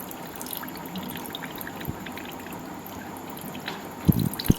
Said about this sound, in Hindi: इसका सारा अतिरिक्त पानी निकाल कर इस तरह से गाड़ लें।